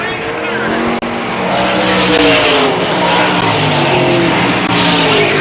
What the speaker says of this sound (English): Amazing the way Kerr was able to keep that car low